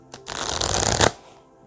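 Zen tarot cards being shuffled in a brief riffle, with a soft tap and then about a second of dense, close fluttering that stops sharply.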